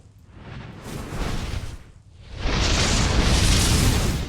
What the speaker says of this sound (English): we have the Gloomy Shot, which is basically